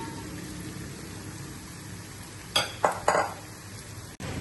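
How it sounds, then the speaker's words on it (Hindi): Fried cauliflower being stirred into a pan, giving three quick scraping, clattering strokes of a utensil against the pan over a steady low kitchen background, ending with a brief knock. "अच्छे से मिक्स करेंगे।"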